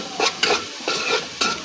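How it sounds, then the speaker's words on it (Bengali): Chilies being stir-fried in a hot pan, a sizzling bed punctuated by several distinct spatula scrapes and stirs at an uneven rhythm, close and fairly loud with no talking. "মরিচ কষাইতেছি"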